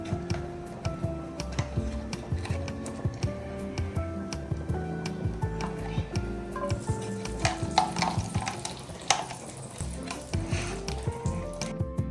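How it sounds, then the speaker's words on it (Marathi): About two spoonfuls of ghee go into hot oil already used for frying, for a vegetable biryani, giving a steady soft sizzle with scattered ticks and light stirring clinks, moderately quiet and continuous. "त्याच तेलामध्ये आता थोडं 2 चमचे तूप टाकत आहे मी"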